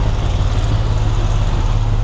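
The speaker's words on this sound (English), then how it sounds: "Go away bus, bloody noisy." A loud bus on a Bangkok street drones close by with a heavy low engine rumble under general traffic noise, holding steady throughout with no talk.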